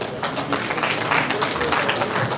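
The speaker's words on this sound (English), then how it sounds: "I think I deserve a better applause than that" A staff meeting audience claps in a thin, scattered patter that keeps going steadily for a couple of seconds, with faint voices mixed in.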